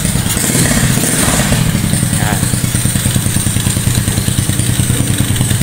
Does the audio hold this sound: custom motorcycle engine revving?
yes